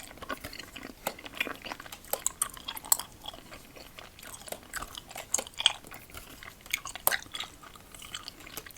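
Harry Potter-themed Haribo gummy candy being chewed close up, with soft sticky squelches and occasional crisp crunches in an irregular rhythm, quiet and intimate with no talking.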